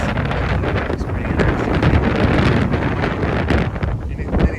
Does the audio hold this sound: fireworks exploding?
no